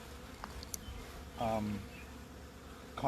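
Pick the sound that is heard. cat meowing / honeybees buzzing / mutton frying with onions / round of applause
honeybees buzzing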